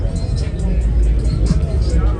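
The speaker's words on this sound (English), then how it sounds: "It's truck behind me loud as hell." Loud engine rumble from a truck idling close by at a large outdoor car show in the Midwest, a steady heavy low drone filling the whole moment with crowd noise mixed in.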